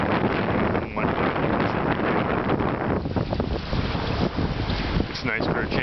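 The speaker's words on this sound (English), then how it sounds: "The wind kind of makes things a little exciting." Strong wind from the remnants of Hurricane Ida roars and buffets the microphone in Charleston, a loud, continuous rushing with gusty surges throughout.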